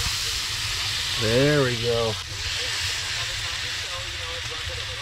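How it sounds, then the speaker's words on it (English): Steaks sizzle and hiss in a pan over a fire at a winter bushcraft camp, a steady close frying noise throughout, with a brief voice speaking over it. "Let's check out those steaks and get those frying up."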